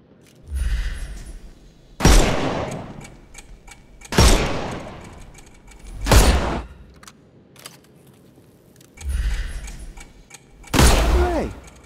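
Gunshots ring out in the Sherlock Holmes Chapter One video game as enemies' armour is shot off, six loud, evenly spaced blasts roughly two seconds apart, each with a sharp crack and short ringing decay.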